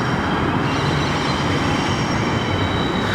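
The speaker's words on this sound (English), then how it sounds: "you can hear a train screaming through now" A train roars past nearby on Goulburn Street in Sydney in a loud, continuous rumble with high metallic squealing from the wheels on the rails.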